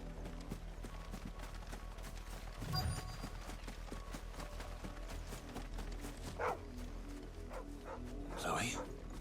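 A dog barks a few times in Final Fantasy XVI, short yaps rising over steady game background sound and footstep-like clopping, with a voice talking throughout.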